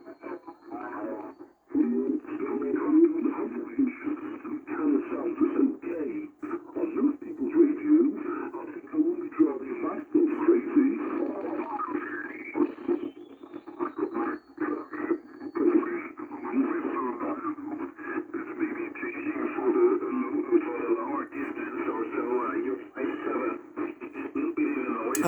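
A Realistic DX-394 shortwave receiver tuned to the busy 40 meter amateur band, demodulating SSB: continuous garbled sideband voices and band noise, steady and fairly loud, with fluctuating chatter throughout and no clear speech over it.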